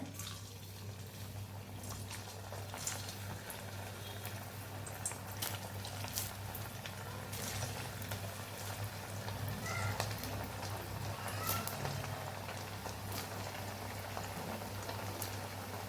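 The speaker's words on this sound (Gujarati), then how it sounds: "તો અહીં આપણું તેલ પણ સરસ ગરમ થઈ ગયું છે તો પોટેટો બાઇટ તૈયાર થઈ ગયા છે તો હવે આપણે તળી લેવાના છે" Potato bites deep-frying in hot oil give a steady, bubbling crackle with scattered sharp pops that continues evenly throughout, close and moderately loud, with no voices.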